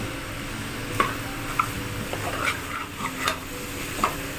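Curry leaves sizzle in hot oil with pieces of bottle gourd, a steady close frying hiss punctuated by several soft spatula stirs and taps.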